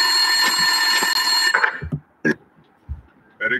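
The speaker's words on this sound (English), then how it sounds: "Winterson's phone was ringing." A desk telephone rings in the Max Payne video game, its bright electronic trill sounding steadily for about a second and a half before breaking into a few shorter, fainter rings separated by gaps.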